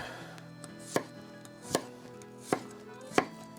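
Garlic being cut horizontally with a knife on a cutting board while preparing Chicago-style Italian beef, four sharp, evenly spaced chops ringing out close against a quiet room, no voices.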